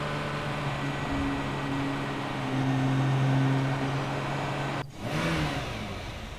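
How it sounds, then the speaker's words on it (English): A Morgan Aero 8 car engine in The Sims 3 video game hums and revs steadily with a tonal drone, then cuts off abruptly before revving back up briefly. "And now the engine noise is absolutely right."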